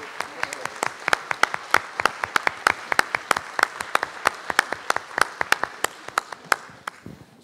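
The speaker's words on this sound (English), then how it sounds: "Can we have a round of applause," Steady, moderately distant applause from an audience in an event hall as a memento is presented on stage, many hands clapping in a continuous patter for several seconds.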